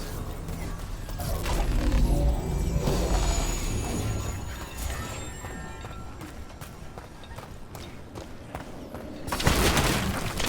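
A mechanism activates as an artifact is set into a socket in Dragon Age: The Veilguard, a dense stretch of grinding, creaking stone-and-metal movement with clattering knocks, swelling again in a loud crash near the end.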